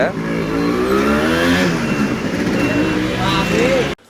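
A modified Yamaha RX100 motorcycle with a cleared silencer revs steadily with a throaty exhaust roar, close by, holding for several seconds before cutting off abruptly.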